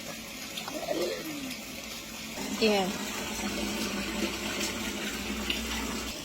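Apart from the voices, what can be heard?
water running from a free public tap into bottles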